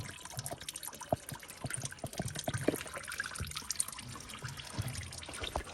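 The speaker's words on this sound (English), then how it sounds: "we will come back when this is done draining, and we'll be filling it up" Engine coolant drains from a Toyota Camry Hybrid during a 100,000-mile coolant change, a steady watery trickle with scattered close drips and splashes, running unbroken with no talking.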